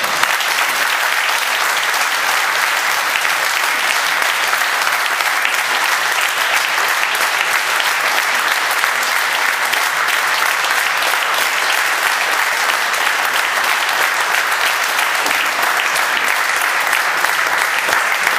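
A hall audience at a tribute gathering gives steady, sustained applause, dense clapping from many hands at even loudness for about eighteen seconds with no talk over it.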